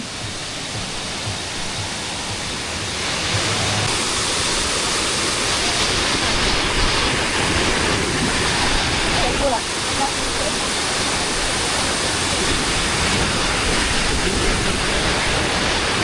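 Waterfall pouring into a cold pool in Colombia, a loud, steady broadband roar that fills the whole stretch and swells slightly after the first few seconds, with no pauses.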